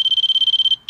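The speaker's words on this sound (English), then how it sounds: "you can listen to the height sensor with the beeps" A 1998 Lincoln Mark VII's air suspension height sensor test gives a rapid string of high-pitched electronic beeps, about a dozen quick even pulses that stop abruptly, heard close and clear.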